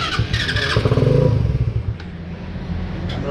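A Suzuki Raider motorcycle engine runs close by after repairs, rumbling and revving briefly before settling into a steady idle hum.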